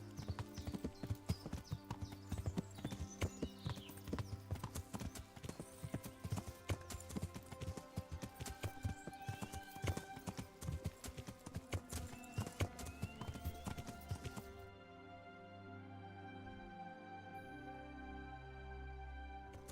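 Horse hooves in the Kingdom Come: Deliverance video game, a steady rapid clip-clop over game music that stops abruptly near the end, leaving quieter tones.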